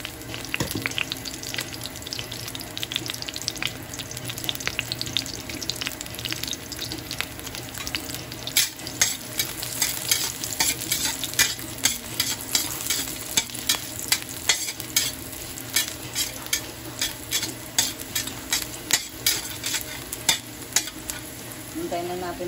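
Plenty of chopped garlic sizzles and crackles in hot oil in a pan, a steady close frying hiss broken by scraping stirring strokes that grow busier toward the end, with no talk.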